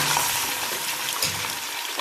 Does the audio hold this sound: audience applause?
no